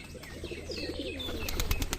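Desi giribaj pigeons coo softly in a rolling, repeated murmur, then a few sharp wing flaps burst out close by near the end.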